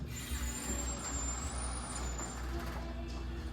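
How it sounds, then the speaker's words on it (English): A forklift's hydraulics let it down slowly in a shop where an air bag suspension is being fitted to a Shoebox Meteor, giving a steady, fairly loud hiss over a low mechanical hum, with no voices. "so we're gonna let the forklift down"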